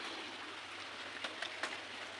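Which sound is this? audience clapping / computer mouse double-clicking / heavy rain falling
heavy rain falling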